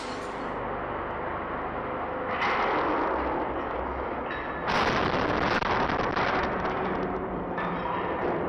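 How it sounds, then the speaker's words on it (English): Molten steel meets water and erupts in a violent explosion: a sustained, loud, roaring blast with surges of bursting, crackling noise, heard close and unbroken by talk. "These explosions can easily occur if even a small amount of water or moisture comes into contact with molten steel."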